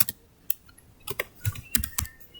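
Irregular keystrokes tapped out on a computer keyboard while setting up a Docker and Next.js workspace, several close, crisp clicks with short pauses between them, no voices.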